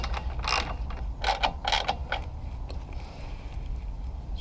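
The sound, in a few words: tightening screws on a Golf MK4 front mount intercooler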